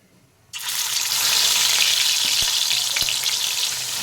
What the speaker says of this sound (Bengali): कड़ाई सर्षेर तेल दिए देब माछटा भेजे नेওয়ার जन्य